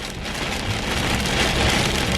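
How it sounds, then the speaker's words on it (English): Heavy rain pounding steadily on a car while driving northbound on the I-57 freeway, a dense, continuous hiss with no gaps and no voices. "Raining too hard for you?"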